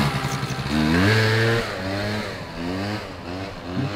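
Stunt motorcycle engine revving loudly during wheelies, with rising and falling pitch sweeps that climb twice, close by and dominant throughout.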